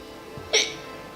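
A single sharp hiccup bursts out midway through an otherwise quiet moment, short and fairly close.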